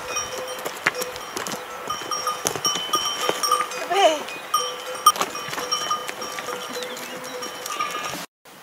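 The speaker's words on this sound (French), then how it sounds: "l'élevage d'une espèce particulière, la chèvre pyrénéenne" Cowbells clank and jingle irregularly among a herd of Pyrenean goats on a farm in the Corbières, with a bleat rising briefly in the middle and a voice speaking faintly beneath.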